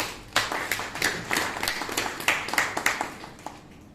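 Steady applause from a crowd at an opening ceremony for a training course, many hands clapping in a dense, even patter that carries on throughout.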